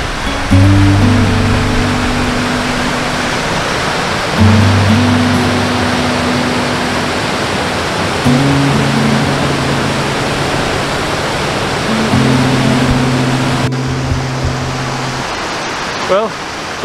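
Stream water flowing steadily at Three Shires Head in the Peak District, a constant loud rush. A low droning tone repeats in long stretches over it.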